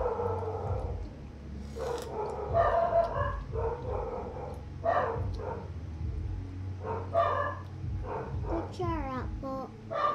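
A dog barks repeatedly in short bursts at a distance in the Philippines, mixed with people talking nearby over a meal of balut and some clattering.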